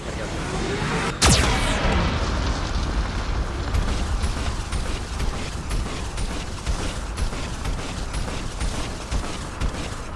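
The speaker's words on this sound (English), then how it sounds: "Warning, Geth cannon is locking on our location." Geth cannon blasts in the Mass Effect 2 game: one sharp, loud explosion near the start, then sustained rumbling mechanical noise and creaking, with faint game voices around it.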